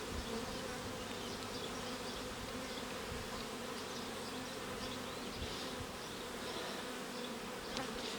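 Bees humming around a Ukrainian-Alpine beehive, a steady dense buzz of many insects close by that carries on throughout with no pause.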